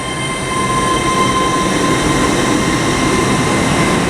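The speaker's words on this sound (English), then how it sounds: "the 1333 Great Western Railway service to London Paddington from Cardiff Central" A Great Western Railway train arriving at Bristol Parkway makes a steady, loud rumble that holds close and unbroken throughout, with a thin high tone running over the noise.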